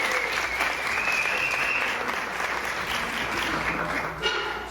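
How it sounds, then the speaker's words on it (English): Steady applause from an audience at a spiritual talk, dense and sustained clapping filling the whole stretch at a fairly loud level, with a faint voice or cheer briefly audible near the middle. "let's give a big round of applause"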